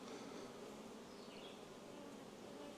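Honey bees buzz steadily at a hive, a dense, even hum filling the background without breaks, heard quietly and alone.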